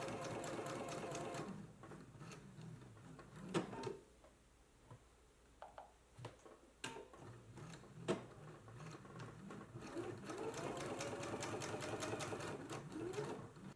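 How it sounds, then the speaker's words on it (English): A sewing machine top stitching a quarter inch along the edge of a dress flap, soft rapid mechanical whirring in two runs, broken by a pause with scattered clicks and handling noises, fairly quiet and close. "we're going to be doing a 1/4 of an inch top stitch"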